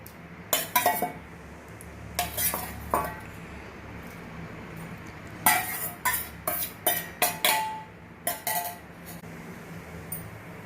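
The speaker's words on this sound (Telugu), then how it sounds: "గుడ్లు కూడా వేసేస్తున్నానండి నేను" Eggs go into a pot of dried fish curry amid sharp metal-on-pot clinks and clatters in irregular bursts, some in quick clusters, over a quiet background.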